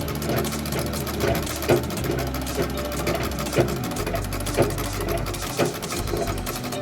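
A sewing machine runs steadily, zigzag stitching a fall onto the edge of a saree: a close, continuous mechanical whir and rapid needle clatter with slightly louder knocks about every second, and no voices.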